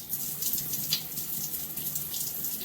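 Water from a tap or spray bottle being worked into natural curly hair during a wash-and-go, a steady soft trickle and splash running for a few seconds, fairly quiet and close, with no voices.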